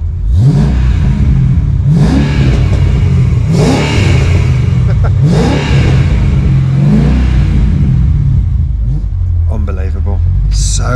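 A Mercedes-Benz CLK DTM engine revs hard in repeated loud bursts, each rise and fall of roughly two seconds, close by and filling the clip, with a softer idle near the end.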